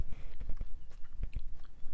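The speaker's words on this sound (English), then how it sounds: "I've never had these kind of soya cornflakes before, but it's kind of crunchy" Chewing crunchy soya cornflakes muesli soaked in coconut milk overnight, close-up wet crunching and mouth sounds in an uneven rhythm over two seconds, without talking.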